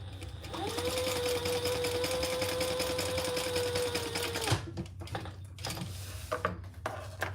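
A sewing machine hums steadily for about four seconds while stitching down each side of a small pouch, then stops, leaving quieter clicks and handling of fabric.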